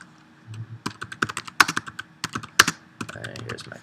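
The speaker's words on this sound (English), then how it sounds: "I would type the question in here." Quiz question being typed on a computer keyboard, a steady run of close, crisp key clicks with a few heavier strokes, no voices.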